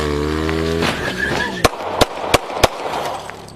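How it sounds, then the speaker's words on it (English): Four sharp gunshots crack out in quick succession during a police confrontation on a street, loud and close, following a blaring car horn and shouting voices. "Dispatch, shots fired on Center Street."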